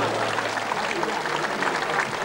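A festival crowd of tambourine players gives a short, dense wash of applause, a steady hiss of many hands clapping at once, with voices mixed in beneath.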